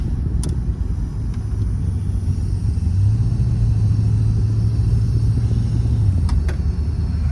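A 1986 Mercury Grand Marquis on the road with a jolty transmission, heard from inside as a loud, steady low engine rumble and road drone, rising slightly in pitch for a few seconds mid-drive.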